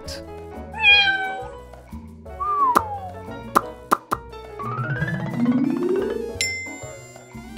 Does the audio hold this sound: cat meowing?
yes